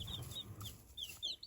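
Several bantam and Australorp chickens cluck in a coop, a run of short, bright calls repeating close by over a low background murmur, with no talk.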